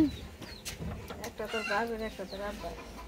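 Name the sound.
hen clucking after laying eggs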